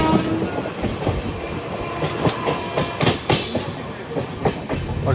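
The Amrit Bharat Express runs through a station without stopping, loud rhythmic clickety-clack of wheels over rail joints repeating in quick bursts against a constant rumbling roar.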